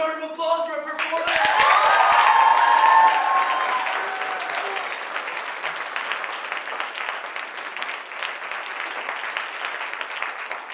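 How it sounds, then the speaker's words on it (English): An audience at a 2011 roast event breaks into applause that swells to a loud, dense roar of clapping within a couple of seconds, then eases to a steady, softer patter with a voice faintly audible over it. "Another round of applause for our performance."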